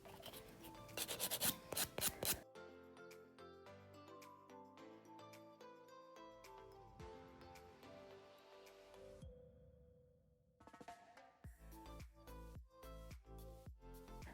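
Nail file rasping across dip powder fingernails in quick repeated strokes, close and fairly quiet, with a brief pause before the scraping resumes.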